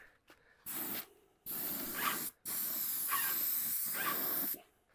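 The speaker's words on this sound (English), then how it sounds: "So we're just gonna spray our drawers." A pressure washer set low, around 1500 PSI, sprays dresser drawers in three steady hissing bursts separated by short pauses, close and alone.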